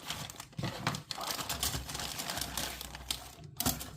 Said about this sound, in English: cut open the sprue bag here